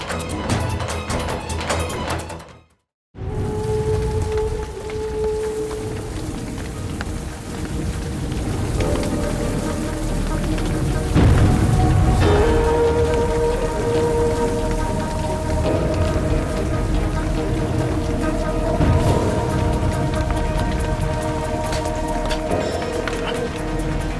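Steady rain pours down in a thunderstorm, with rumbling thunder rolling underneath and a brief dropout near the start, loud and continuous throughout.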